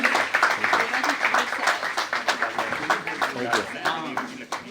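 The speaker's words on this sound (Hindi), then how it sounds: "तालियां बजाते रहिए" Guests clap at a retirement farewell for a judicial administrative officer, a steady, fairly close patter of hands that rises and falls in bursts while a speaker's voice carries over it.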